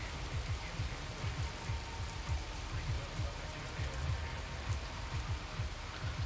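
Steady rain pours in a football video game match, a dense, continuous patter on the surface with soft low thumps throughout and nobody speaking.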